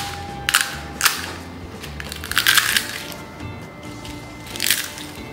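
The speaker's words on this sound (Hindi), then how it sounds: "अब मैं इसको तोड़ करके दिखाती हूँ कि ये कितना क्रिस्पी बना है।" Crisp homemade pani puri shells crack and snap apart by hand in several sharp, close bursts separated by short pauses, with no talking.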